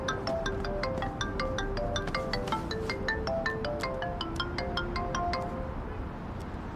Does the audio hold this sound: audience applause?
no